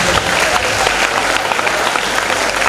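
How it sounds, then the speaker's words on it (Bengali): An audience at a school function in Taki claps loudly and continuously to honour a head teacher, a dense, close burst of applause with crowd murmur. "আপনাদের সকলকে বলবো আপনারাও একটু করতালি দিয়ে তাকে সম্মান করবেন।"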